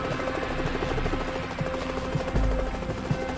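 Marine One, the presidential helicopter, drones loudly and continuously, its rotor beating in a fast, even pulse with a low thump near the end.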